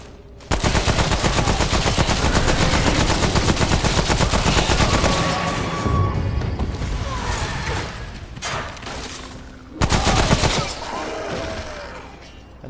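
Sustained heavy automatic gunfire from the video game Remnant: From the Ashes, a loud continuous burst for several seconds, then tapering with scattered shots and a second brief burst near the end.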